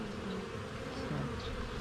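Honeybees buzzing at a hive being split into a new colony, a dense, continuous hum with wavering pitch from many bees close by, steady and moderately quiet, with no speech.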